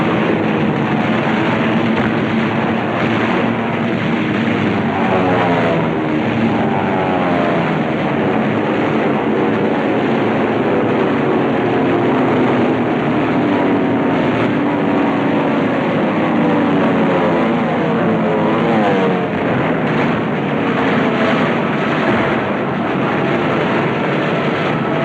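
World War II carrier-based propeller fighter planes dive on Truk in the Pacific, giving a loud, continuous engine roar that sweeps steadily in pitch throughout, with no talking.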